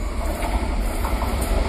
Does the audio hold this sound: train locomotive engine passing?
yes